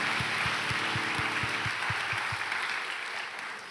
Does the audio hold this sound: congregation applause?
yes